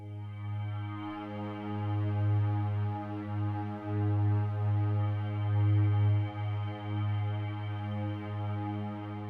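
A sustained, warm Serum synth pad drones low and steady, swelling gently with slow wavering movement, alone without any voices.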